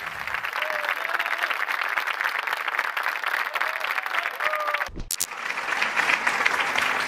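A studio audience on a Moroccan television show applauds a singer with sustained, dense clapping that holds steady throughout, broken by a brief sharp knock near the end and faint voices underneath.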